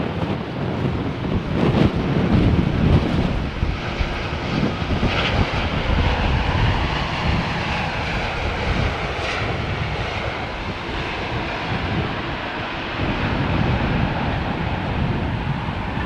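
An airplane in striking livery flies past at London Heathrow Airport, a broad, loud roaring rush that swells and lingers for several seconds, with wind buffeting the microphone throughout.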